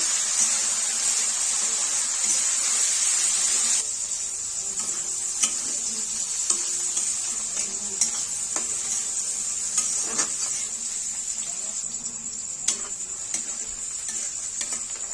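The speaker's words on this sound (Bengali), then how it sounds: "অল্প একটুখানি নুন আর ভেজে নেব" Long beans and cabbage frying in oil with a little salt, a steady sizzle under repeated scrapes and clinks as a spatula stirs the pan, close and without talk.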